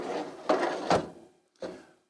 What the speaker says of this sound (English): they're roller bearing drawers, so they're nice and easy to get in and out